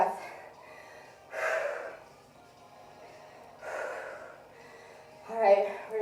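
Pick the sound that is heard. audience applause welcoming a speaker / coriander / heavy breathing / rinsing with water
heavy breathing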